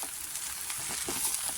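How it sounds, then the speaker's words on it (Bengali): Kashmiri chili powder fries in a wok and is stirred in for a jackfruit and egg dish, giving a continuous crackling sizzle with soft stirring scrapes close by. "কাশ্মীরি লঙ্কা গুঁড়ো দিয়ে ভালো করে একটু নেড়ে চেড়ে কষা করে নেব।"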